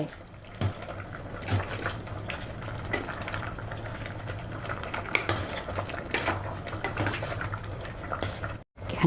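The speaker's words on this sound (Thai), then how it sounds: "แล้วก็มาตักแกงใส่ถ้วย" Bamboo shoot curry is ladled from a pot into a bowl, with soft clinks of metal on dishes and light liquid sloshing close by, over a faint steady kitchen hum.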